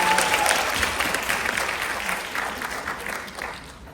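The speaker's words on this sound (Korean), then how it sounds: "박수 한번 부탁드리겠습니다" Clapping from an audience at a 20th anniversary event for a film production company, a loud burst of applause that starts strong and gradually thins and fades over four seconds.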